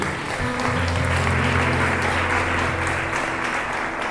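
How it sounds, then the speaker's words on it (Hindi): A congregation at a gospel gathering claps together loudly and steadily, a dense continuous wash of hands that holds at even strength throughout. "उस परमेश्वर के लिए जोर से ताली बजाएंगे सब लोग मिलकर।"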